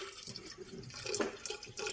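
Cold water is poured into a container of overly hot water in a home kitchen, giving short splashy pouring bursts and trickles close by without speech.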